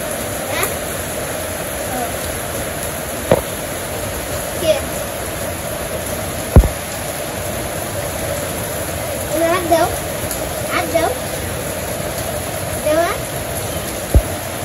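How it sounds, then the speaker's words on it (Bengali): Morning rain falls in a steady, even hiss, with scattered sharp drips and splashes landing close by throughout. "সকালবেলা সুন্দর বৃষ্টি"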